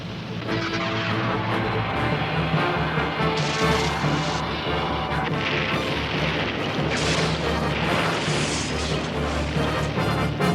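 Torpedo launch and explosion in a G.I. Joe animated film: loud, continuous booming and crashing blasts with rumbling impacts sustained throughout, dense and near, with no clear talk over them.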